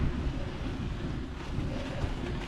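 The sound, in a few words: strong wind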